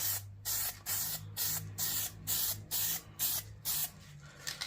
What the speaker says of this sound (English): Do the light spraying of things.